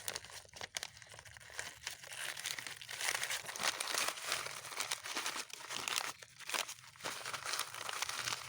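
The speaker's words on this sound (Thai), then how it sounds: "หลังจากนั้นก็นำมาห่อด้วยกระดาษ" Scrap paper crinkles and crumples as it is wrapped around a cactus plant, a close, busy series of rustles and sharp crinkles with brief quieter gaps.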